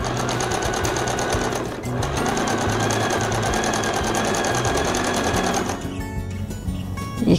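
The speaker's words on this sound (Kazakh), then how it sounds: "Енді шетін айландырып тігіп шығамыз." Sewing machine stitching around the turned edge of a fabric piece, likely an embroidered kerchief, running steadily and close up with a dense mechanical whir, then slowing and stopping near the end.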